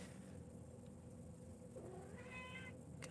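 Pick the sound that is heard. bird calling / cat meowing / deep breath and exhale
cat meowing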